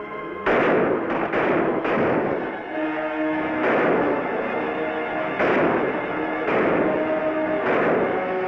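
Loud, echoing gunshots in a 1955 western film shootout, single reports fired every second or so over a steady background rumble, with no talking.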